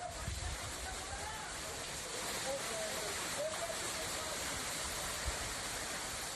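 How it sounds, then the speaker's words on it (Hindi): The Amravati waterfall in Maharashtra, running in full flow after years of drought, gives a dense, steady roar of rushing water with no pauses, heard close up and fairly loud. "झरना नहीं, झरने की धार देखिए।"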